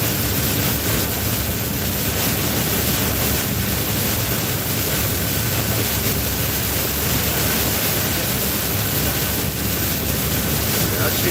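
Strong wind gusts roar steadily with waves and spray around a sailing boat heeled over in stormy weather, a dense, continuous rush that stays loud throughout and buries any other sound.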